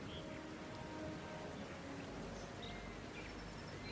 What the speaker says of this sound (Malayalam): ആ മഴയത്ത് പാവം ഭോലി ആകാശം നോക്കി വിറച്ചിരുന്നു.